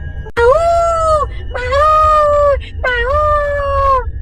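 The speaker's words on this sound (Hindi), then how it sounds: "तभी एक बार फिर से घर के बाहर कुत्ता भौंकने लगता" A dog howls and wails in three long, drawn-out cries, close and loud, with short pauses between them.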